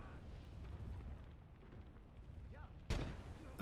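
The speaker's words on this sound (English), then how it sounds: "I am just launching nades again" Grenades launched in the WWII game Gates of Hell: Ostfront rumble faintly at a distance under a low, muffled battlefield drone, then one sharp, louder blast lands near the end.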